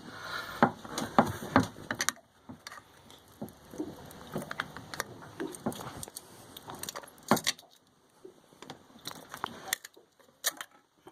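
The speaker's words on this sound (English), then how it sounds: "so you want to make sure when you pry it out you're careful so you don't break the plastic brace" Plastic brace being pried out of a runabout boat's thermostat housing, a series of close sharp metallic clicks, taps and scrapes in irregular bursts, with quieter fiddling between them.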